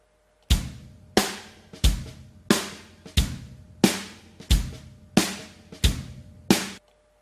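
An EZDrummer drum kit mix with an added overhead channel plays alone: a steady, roomy beat with ten evenly spaced loud hits, each ringing out with cymbal wash and decay.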